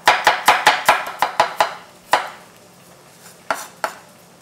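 Knife chopping garlic on a cutting board while green beans are being cooked: a quick run of about eight sharp, close taps, then scattered single chops with short pauses between them.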